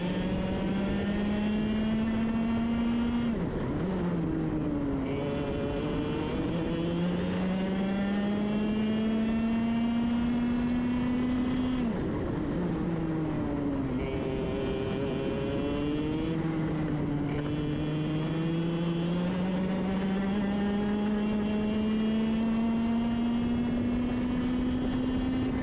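A racing kart engine whines loudly and continuously around a track during an IKC karting round, its pitch climbing through long accelerations and dipping sharply into corners several times, heard close and alone.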